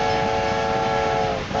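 A train in the railway-building game Railway Empire rolls past with a steady, sustained horn blast held over the running rumble, loud and close, briefly dipping at the very end.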